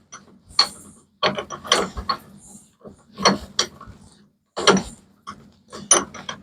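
A chuck on a wood lathe holding a round whiskey smoker is loosened with a chuck key, giving a series of close ratcheting metal clicks in irregular bursts separated by short pauses.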